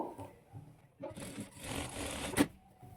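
A sewing machine stitching a blouse in short bursts, a quiet start-stop whir with a faint mechanical rattle and a small knock near the end, no talk.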